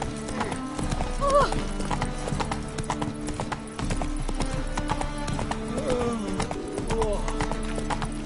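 Roach, a horse in The Witcher 3: Wild Hunt, gallops with rapid, steady hoofbeat clip-clops in game audio, joined by a brief whinny, while characters talk over the ride.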